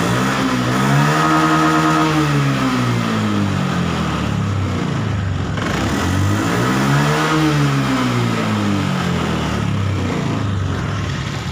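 A Honda Beat ESP scooter engine revs in repeated rising and falling surges over a steady idle during a charging-system test, loud and close with no talk.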